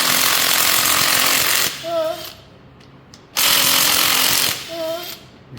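An impact power tool buzzes off Tremec TKX transmission extension housing-to-case retaining bolts in two loud, sustained bursts, each ending in a short lower whir, with a quiet pause between.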